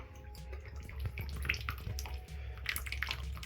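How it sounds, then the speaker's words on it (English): A leaking Delta 1600 series bath faucet drips and trickles into the tub, with quiet irregular splashes and plinks over a low watery hum, faint and close, with no voices. "Delta faucet that's dripping."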